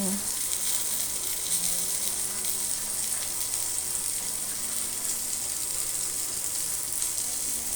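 Food fries in a pan with a steady, dense sizzle that stays even and moderately close, a faint voice barely present underneath.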